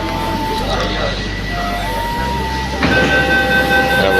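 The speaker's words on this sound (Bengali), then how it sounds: "দেখতেই পাচ্ছ একটা স্টেশনে চলে এলো ট্রেন" A Kolkata underwater metro train rumbles and hums at a platform, with electronic tones sounding and a drop in motor pitch as it settles.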